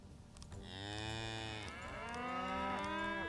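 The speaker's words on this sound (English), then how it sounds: "Okay, you're loud. Get out of my ears. Cows." Cattle in the video game Songs of Syx moo in two long, drawn-out calls, one after another, fairly faint and with no talk over them.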